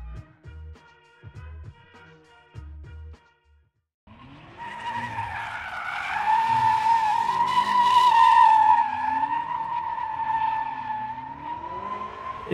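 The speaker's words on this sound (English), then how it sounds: "at first I thought it was just someone screeching their tires, and then I realized it was actually part of CES's show" BMW cars screech their tires through a stunt driving show at CES in Las Vegas, a long, loud, wavering squeal with revving engines that follows a stretch of quieter tones before it.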